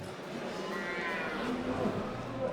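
Limousin cattle lowing at an agricultural show, a long, drawn-out moo held against a busy hall background.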